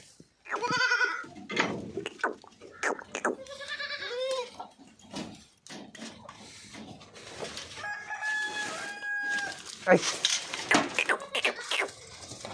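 Goats bleat loudly and repeatedly nearby, with a rooster crowing partway through and other farm noises around them.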